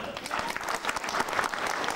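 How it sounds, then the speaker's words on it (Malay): Audience applause at a 1995 evening stage event, a dense, continuous patter of many hands clapping at moderate distance with no break. "Tepukan paling gemuruh untuk Cik Yusman."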